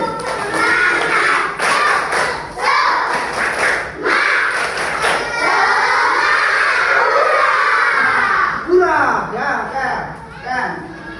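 Primary schoolchildren in an Indonesian classroom perform a tepuk semangat rhythmic clapping chant, with loud bursts of group claps mixed with many young voices chanting and shouting together, close and energetic.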